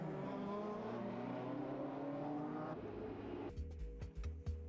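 A loud, rude-sounding car engine revs hard and steady, then shifts into choppier, sputtering bursts near the end, with no voices.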